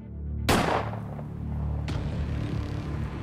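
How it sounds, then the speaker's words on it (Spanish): A gunshot sound effect in a crime reenactment cracks out sharply and loudly once, then a second fainter shot follows about a second and a half later over a low steady hum. "le hace otro segundo disparo."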